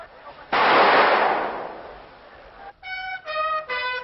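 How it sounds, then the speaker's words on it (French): Elite Indian army soldiers fire a gun salute at a funeral ceremony, one loud sharp volley ringing out and decaying, followed by several clear bugle-like tones; the recording sounds old. "Les soldats d'élite de l'armée indienne lui ont rendu les honneurs par 4 salves de 32 coups de feu."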